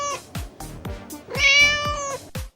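A domestic cat meows several times in a row, each call a clear, tonal, mid-pitched cry, fairly close and loud, with short gaps between.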